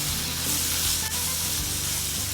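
Spiced beef liver pepper fry stirred in a hot pan, a steady loud sizzle with soft scraping of the spoon throughout, close by and without talk.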